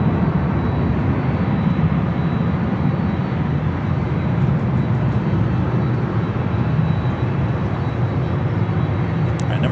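Aircraft engine roar at Los Angeles LAX airport, a loud steady broadband rumble held throughout without breaks or talk.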